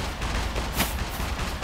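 Enemy gunfire in the survival game SCUM comes as a dense, muffled burst of rapid shots, one slightly louder crack standing out midway, somewhat distant and steady in level.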